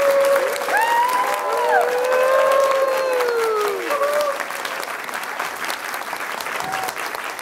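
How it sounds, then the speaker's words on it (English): After a kindergarten Thanksgiving performance at Lincoln Elementary in Cupertino, parents give a big round of applause: steady, close clapping mixed with excited cheering voices early on, thinning slightly toward the end. "Let's give them one more big round of applause"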